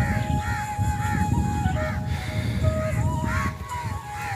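Crows cawing overhead during light rain after a downpour, repeated harsh calls spaced through the clip over a steady wash of rain and background noise.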